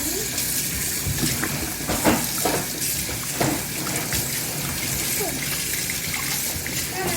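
Quail meat rinsed under a running kitchen tap, a steady broadband water hiss with small splashes and trickles as the meat is handled, close by with some faint talk around it.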